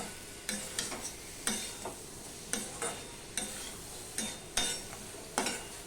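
Spoon stirring potato and eggplant fish curry in a pan, several separate scraping strokes spaced about half a second apart, each with a soft sizzle, close and moderately loud with no voices.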